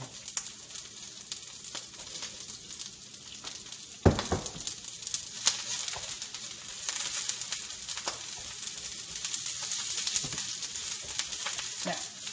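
A batch of cabbage sears and sizzles hard in a hot pan for ground pork udon, a constant crackling hiss punctuated by sharp spatters and stirring knocks, loud and close with no talking.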